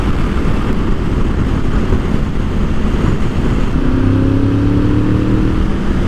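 A Honda VFR V4 motorcycle is ridden with a steady, loud engine drone and wind rush throughout, and a rising note toward the end as it pulls.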